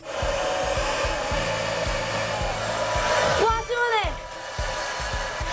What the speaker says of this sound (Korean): 젖은 상태에서 뿌려주고 손가락으로 마사지 해주고 드라이기로 말리고 있습니다